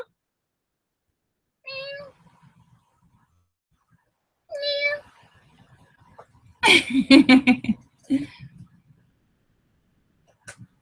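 A voice imitates a cat's meow twice, drawn-out nasal calls separated by pauses, followed by a burst of laughter and chatter.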